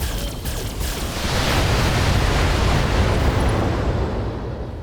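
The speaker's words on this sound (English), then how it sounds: "Fire 2 LRM 20s and all those lasers." In the BattleTech video game, a volley of LRM missiles and lasers fires at once, a loud sustained roaring rumble of explosions that swells and holds before easing slightly at the end, with no voices.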